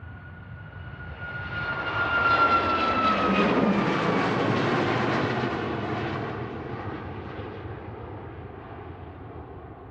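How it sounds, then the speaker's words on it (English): A Ryanair Boeing 737 Max 8-200 jet departs from Manchester Airport, its engine roar swelling to a loud peak, holding, then slowly fading into the distance, with no talking. "So this Ryanair is a Max 8 200 737 heading off to Palma, operating flight 3441"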